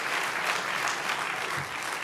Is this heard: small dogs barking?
no